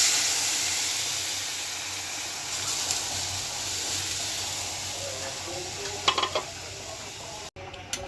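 Curry gravy cooking in a pan with coconut fritters gives a continuous sizzle and hiss while a spoon stirs, with a few brief clinks near the end and no talk.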